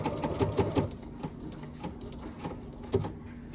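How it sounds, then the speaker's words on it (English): A Bernina sewing machine with button sew-on foot #18 stitches a button in place, a few quick mechanical bursts of rhythmic needle clatter early on and again near the end, fairly quiet with pauses between. "one disadvantage of sewing this on by machine is that you still see what's going on underneath of there"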